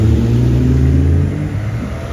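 A classic Mercedes-Benz 300SL Roadster engine rumbles loudly close by, a deep low drone with a slight dip in pitch as it moves past.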